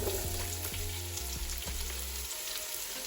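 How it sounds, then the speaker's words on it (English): Thinly sliced onion frying in hot oil with cumin, bay leaf and cinnamon for prawn biryani, a steady close sizzle throughout with a few faint stirring knocks. "we add a 250 gram of thinly sliced onion"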